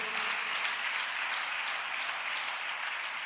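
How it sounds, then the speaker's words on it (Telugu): A church congregation clapping their hands, a dense even wash of many hands applauding together, continuous and fairly distant, with no talk. "కొట్టు, చప్పట్లు కొట్టు"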